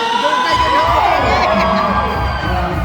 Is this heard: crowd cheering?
yes